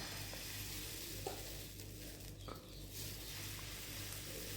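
Rice flour batter ladled onto a hot dosa pan gives a soft, continuous sizzling hiss with faint scattered crackles, heard alone at low volume.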